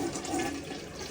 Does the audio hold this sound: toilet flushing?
yes